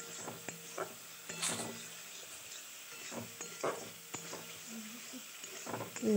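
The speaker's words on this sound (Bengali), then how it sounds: "আবার একটুখানি কষিয়ে নিচ্ছি জল দিয়ে" Masala being sautéed in a pan with a splash of water, a soft steady sizzle under scattered scraping stirs and light clinks, close but fairly quiet, with no voices.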